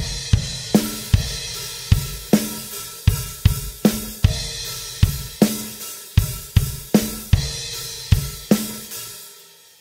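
A drum kit plays a rock groove from a song's drum part, with punchy kick drums and repeated ringing crash cymbal hits in a steady syncopated pattern, close and alone without talking.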